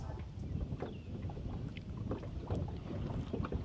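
A small boat under way on an ePropulsion Navy 6.0 electric outboard, giving a steady close wash of churning water and hull splash with wind buffeting the microphone, continuous and fairly loud with no voices.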